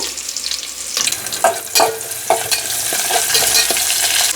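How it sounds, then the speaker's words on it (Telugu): Onions and curry leaves fry in a pan with a steady, close sizzle, broken by several sharp spatula scrapes and stirs through the middle. "ఇప్పుడు ఆనియన్స్ వేయాలి ఆనియన్స్ కరివేపాకు"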